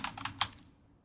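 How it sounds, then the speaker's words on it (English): A short burst of typing on a computer keyboard, four or five quick close key clicks with the last one slightly harder, then quiet. "I'm just going to type something into"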